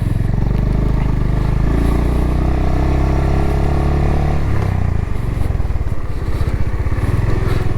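A Honda Hness CB350 motorcycle engine heard while riding: a loud, close, continuous low thrum that holds steady and then drops in pitch, with a gear change and a renewed pulsing drone.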